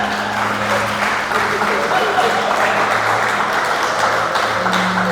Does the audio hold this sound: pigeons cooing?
no